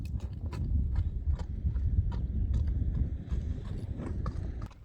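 A farm horse walks on rough stony ground, its hooves clip-clopping in a steady, close, moderately loud rhythm with no talk over it.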